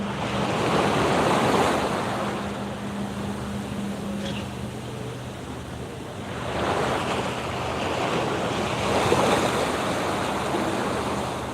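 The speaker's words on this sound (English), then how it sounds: "now we have a little sea water moving around us" Sea waves wash and surge in slow swells on the Holetown shorefront, mixed with rushing wind buffeting the microphone, with no voices.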